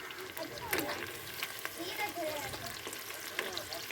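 Pieces of chicken pakodi fry in hot oil over medium-low flame, a continuous close sizzle and bubbling with occasional clinks of a spoon.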